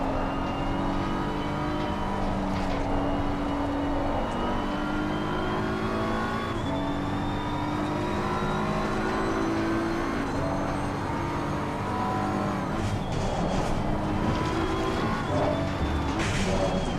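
Porsche and McLaren race cars lapping Suzuka in a racing video game, engines droning steadily with rising and falling pitch as gears shift, continuous and fairly loud throughout.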